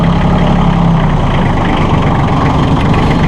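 A 2008 Massey Ferguson 1533 compact tractor engine runs steadily with a low, rumbling diesel drone while gears are shifted. The sound is loud and continuous, with no talking.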